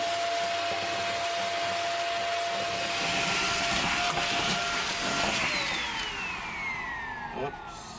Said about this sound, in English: This is my Waterworld Hoover. It's a post-apocalyptic Hoover.